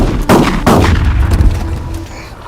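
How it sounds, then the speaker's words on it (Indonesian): Gunshots in a scene from the 2025 film Organ Child ring out as two loud, sharp blasts close together, followed by a rumbling, fading tail. "Wu akhirnya berhasil menembak mati Agung"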